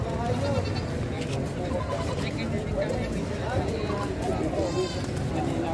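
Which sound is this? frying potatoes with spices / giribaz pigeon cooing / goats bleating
goats bleating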